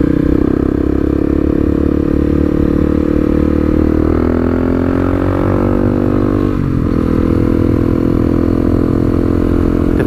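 A Honda CRF 250L motorcycle with an aftermarket exhaust, heard while riding: a loud, close, continuous engine drone that rises in pitch as it revs midway, then eases off, with a faint scrape near the end.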